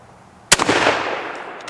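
A Mosin Nagant M91/30 rifle fires a single loud, sharp shot outdoors, followed by a long rolling echo that fades over a second.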